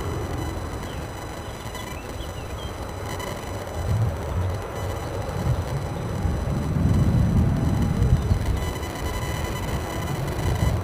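An EasyJet airliner on the Krakow flight at Edinburgh airport gives a broad, rumbling jet roar that swells and holds, steady and fairly loud with wind noise and no talk.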